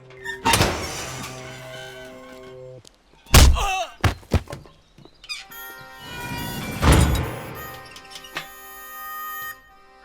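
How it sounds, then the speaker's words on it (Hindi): A door is opened in a Hindi film scene, with a few loud thunks and clanks, heard amid background music with sustained tones. "दरवाजा खोलो।"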